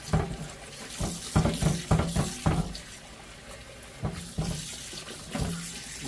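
A cast iron skillet is scrubbed with a sponge at a kitchen sink under running tap water, with steady splashing and a few louder bursts of scrubbing near the start and again later, and no talk.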